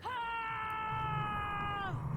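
A female bard in Dragon Age: Origins lets out a sustained, wavering battle-cry scream lasting about two seconds, loud and tonal, fading at the end over faint background game noise.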